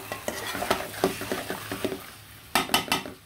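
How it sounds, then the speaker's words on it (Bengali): Chicken pieces with turmeric, chili, coriander, garam masala and cumin are fried and stirred in a pot, with repeated scraping clinks of a spatula against metal over a soft sizzle, close and distinct, no talking. "দিয়ে ভালো করে মাংসটা কিন্তু কষিয়ে নিব"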